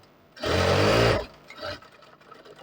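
A sewing machine stitches a shirt in one loud, fast burst of about a second, followed by quieter intermittent mechanical clicks and handling sounds.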